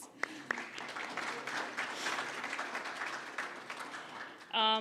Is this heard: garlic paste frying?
no